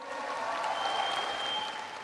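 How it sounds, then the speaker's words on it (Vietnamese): Sustained audience applause at a gala finale dance show, steady dense clapping that fills the whole stretch at a fairly even level without talk over it. "Xin một tràng pháo tay nồng nhiệt ạ."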